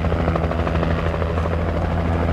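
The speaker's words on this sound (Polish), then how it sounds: "Lecicie za mną tym helikopterem?" Helicopter in the video game Alan Wake, a steady, loud rotor thrum with a constant whirring drone that holds evenly throughout.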